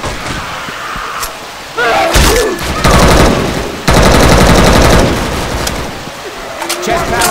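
Rifle fire in the video game Left 4 Dead 2 during a storm on a swamp map, loud bursts of rapid shots in two long stretches, with short pauses and scattered in-game noise between them.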